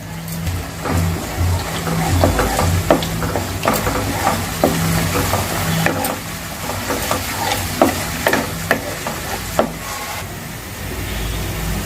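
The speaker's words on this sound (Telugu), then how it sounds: "ఇలా ఇదంతా కూడా పచ్చి స్మెల్ పోయే వరకు దీన్ని మనం ఆయిల్లో ఇలాగే మనము వేయించుకోవాలి." Ginger-garlic paste, turmeric and other spices fry in hot oil for a fish curry. A loud, continuous sizzle runs throughout, broken by repeated scraping and stirring strokes of a spoon in the pan.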